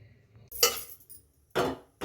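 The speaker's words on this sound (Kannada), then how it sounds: "ಪಾತ್ರೆ ಇಟ್ಟೆ" Cooking pot set down in a home kitchen, two or three short, bright metallic clanks spaced apart, close and fairly loud.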